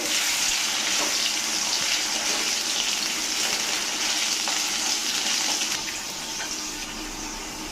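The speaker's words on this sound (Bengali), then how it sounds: "আমি আলুটা একটু ভাজা ভাজা করে নেব।" Potatoes frying in a pan for a light Bengali fish curry, giving a loud, steady, broadband sizzle that holds for several seconds and eases slightly toward the end, with no talking.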